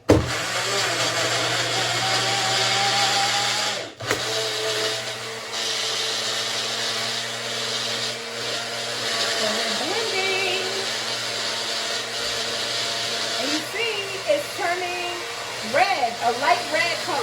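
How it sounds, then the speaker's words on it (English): A kitchen blender whirs steadily as it blends strawberries and yogurt into a smoothie, a loud continuous motor drone with a brief stop before running on, while a voice talks over it. "All right, now we are going to blend."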